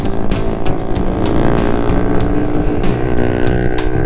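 Loud motorcycle exhaust from a carbureted Raider 150 on a Sunday ride, a steady, continuous rasping engine drone close to the listener with slight rises in revs and wind rush throughout.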